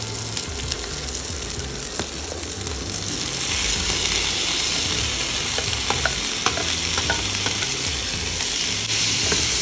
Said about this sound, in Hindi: साथ ही हम इसमें डालेंगे डाइस किए हुए टमाटर और शिमला मिर्च